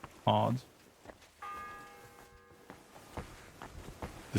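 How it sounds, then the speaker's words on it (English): A bell strikes once in the medieval role-playing game Kingdom Come: Deliverance II, its tone ringing clearly for about a second before fading, at moderate volume among faint game sounds. "The 6th bell. Half the time is up."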